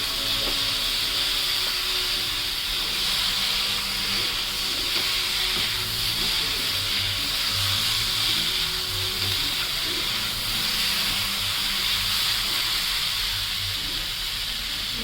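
Onion fries in a pan for an Odia bhindi khatta dish, giving a steady, even hiss and sizzle that holds at one level for the whole stretch with no voices.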